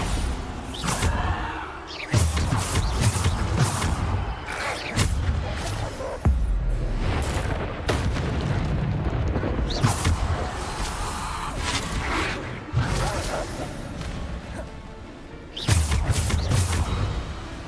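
Bombarda explosion spells in Hogwarts Legacy, a series of sharp thumping blasts with whooshes arriving every second or two amid busy combat noise.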